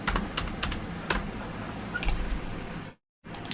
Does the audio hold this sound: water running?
no